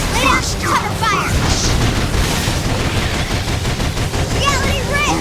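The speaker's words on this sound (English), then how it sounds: "Lay out cover fire!" Sustained gunfire laying down cover fire in the video game Xenoblade Chronicles X, loud rapid bursts running continuously under shouted character voices and whooshing effects.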